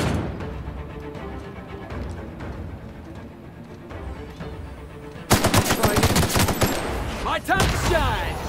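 Deadeye assault rifle in The Outer Worlds, Peril On Gorgon expansion, firing rapid steady volleys: moderate repeated shots at first, then a sudden louder, harsher stretch of fast automatic fire to the end, with some speech mixed in.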